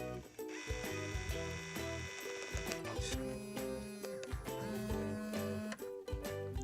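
A cutting machine works on a paper basket design with a quiet run of motorized whirs, ticks and shifting tones as its carriage moves back and forth.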